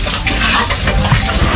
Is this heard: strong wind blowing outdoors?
no